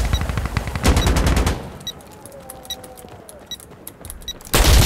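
Video game gunfire in Insurgency Sandstorm: rapid bursts of automatic shots open the scene, then scattered single and double reports sound at a distance before another loud volley hits at the end.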